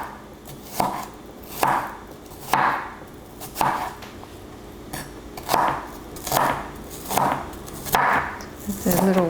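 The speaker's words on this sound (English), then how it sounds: "you want to cut them into little quarter sections" A knife chops through peeled shallots on a cutting board, cutting them into small quarter wedges: about ten crisp, evenly spaced strokes, close and clear.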